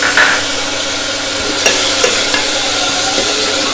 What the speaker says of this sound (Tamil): இதெல்லாம் நல்லா வதங்கணும்.